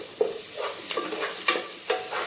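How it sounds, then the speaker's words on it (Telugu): Fish curry with green chilies cooks in a pan while a spoon stirs it, a soft continuous sizzle punctuated by a few distinct scraping strokes, close and quiet. "ఇలా ఒక 2-3 minutes కలుపుకుంటూ ఉండాలి."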